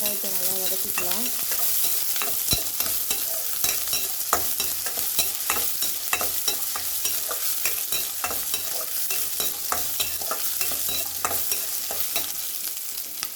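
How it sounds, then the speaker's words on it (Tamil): Onions sautéing in hot oil in a pan just after mustard seeds splutter, for a simple okra stir-fry; a steady close sizzle and crackle runs throughout with frequent sharp scraping and stirring clicks, and no talk. "கடுகு பொரிஞ்சோடனே வெங்காயத்தை நல்லா வதக்கிக்கலாம்"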